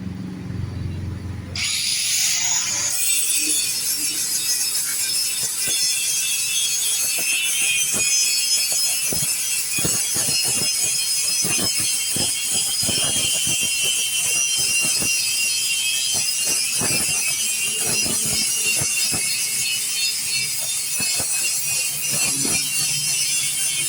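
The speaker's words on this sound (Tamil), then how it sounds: "இப்போ கிரைண்டிங் பண்ணிடலாம்." A grinder works on the welded core of a Yamaha motorcycle silencer, a loud, continuous, close metallic whine with rasping scrapes and uneven bursts of grinding contact throughout.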